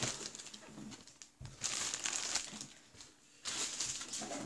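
Scissors snipping and crinkling through plastic toy packaging on a Chad Valley shopping cart toy, with repeated close crunchy rustles in bursts and no talk.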